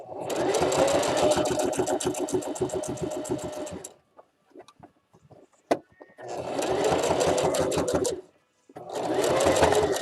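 Sewing machine stitching a fabric Easter basket, running in two long bursts of rapid mechanical chatter with a gap of small clicks and handling noises between them, then a short final back-stitch run; close and loud.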